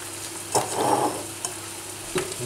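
Rice stirred into red paprika frying in a pan, a close scraping stir over a soft steady sizzle, with a few knocks of the spoon against the pan.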